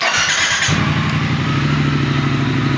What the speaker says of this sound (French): je vais démarrer la moto pour que tu puisses entendre le zoo du bruit qu'elle fait